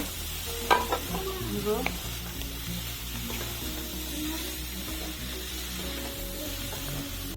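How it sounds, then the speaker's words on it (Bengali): Cauliflower being stirred and fried in a pan, a constant close sizzle with a few scraping stirs near the start, then steady frying hiss with no talking. "কপিটা দিয়ে দিলাম আর মধ্যে দিয়ে নাড়াচাড়া করে"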